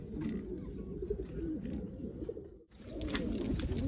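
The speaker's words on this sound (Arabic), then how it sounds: "هذني ما شاء الله طيور دوامه وجماليه" Pigeons coo steadily in a crowded loft or tower, a dense, continuous low burbling from many birds close by, with a brief dip and then brighter chirps and flutters.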